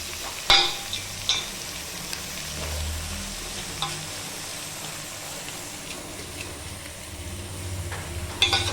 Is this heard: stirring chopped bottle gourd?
yes